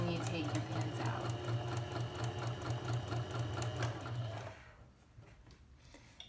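A sewing machine stitching a clean finished hem in fabric, a steady rapid mechanical chatter that runs for about four seconds and then stops, leaving quiet room tone with a faint click; a voice talks over it.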